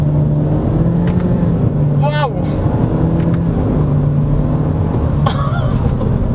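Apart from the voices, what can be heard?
2022 Honda Civic CVT revving on downshift to first gear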